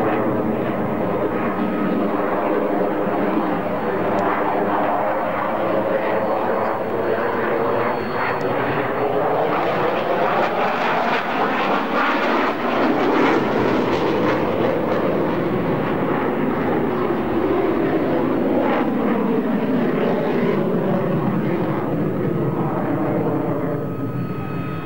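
A fixed-wing aircraft roars past at a 2001 airshow at Mihail Kogălniceanu, Romania. The engine noise is loud and continuous, and its pitch sweeps as the plane passes close by, with no voices over it.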